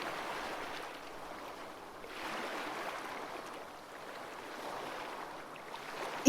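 Sea waves in a soft, continuous wash that slowly swells and recedes in gentle cycles, distant and fairly quiet, with no voices.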